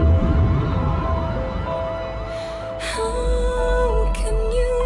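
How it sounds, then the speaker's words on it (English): Wailing police sirens rise and fall in sweeping cycles at moderate distance, then a second siren joins and overlaps with the first over a low background rumble. "Police sirens as well"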